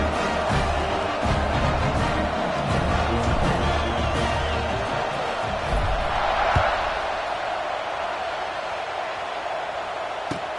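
A football stadium crowd roars steadily before a college game kickoff, a broad and continuous wash of cheering and chatter that stays loud and dense throughout.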